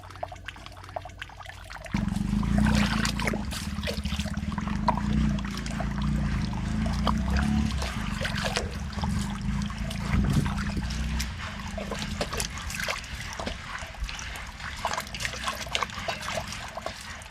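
Lentils being washed by hand, with water pouring, sloshing and trickling continuously, close by, for a long stretch.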